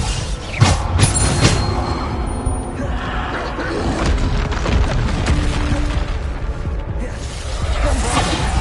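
The Bombarda blasting spell goes off in Hogwarts Legacy: booming impacts and whooshing bursts, with sharp hits near the start and then a steady clattering rumble of magical combat throughout.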